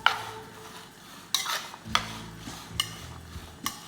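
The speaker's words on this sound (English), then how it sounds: "We are going to mix everything together." A spoon scrapes and clinks against a bowl while chaat masala is mixed into a dahi bhalla chaat. The strikes come in a few sharp, separate knocks spread over the clip, with soft stirring in between and no talk.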